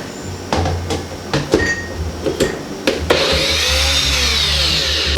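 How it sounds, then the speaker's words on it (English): Blender crushing frozen ingredients with no liquid added for homemade healthy ice cream, heard in short bursts of clunking and whirring before a steady loud grinding run near the mic. "Blending is gonna take a while because it's like frozen and there's no liquid added."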